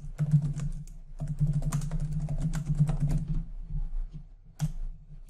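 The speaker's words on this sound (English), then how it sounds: "I could hit the Enter key and that will take me down to the next line and I can carry on typing again." Steady keystrokes on a computer keyboard while entering text in Microsoft Word, a close, dense run of clicks that briefly pauses near the end before a final few taps.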